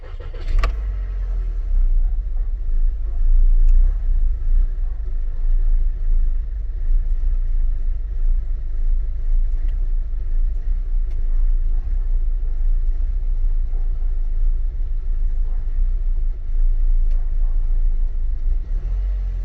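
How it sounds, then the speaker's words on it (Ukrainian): Cold car engine cranked and started, a brief sharp start followed by a steady, loud low idle rumble lasting many seconds, close to the vehicle, with no talking. "зараз автомобіль холодний, я його ще не заводив. Ось заведу, покажу, як він працює."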